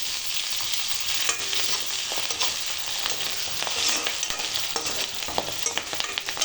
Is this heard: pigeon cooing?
no